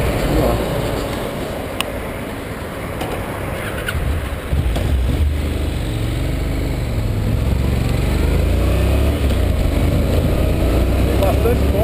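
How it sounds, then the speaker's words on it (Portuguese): A Honda NC700X 700cc motorcycle on a rainy test ride gives a continuous loud rush of engine and wind noise, rising slightly partway through, with faint voice at times. "vamos fazer o test ride aí da NC700X. Motoca 700 cilindradas aí"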